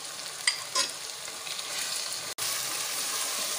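Chicken frying in a pan with spices gives a steady, close sizzle with faint stirring scrapes and a brief break partway, with no one talking.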